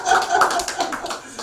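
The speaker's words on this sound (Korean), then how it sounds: "박수 한번 해줘." A church Bible-lecture audience gives a brief round of applause, a short burst of close, dense clapping.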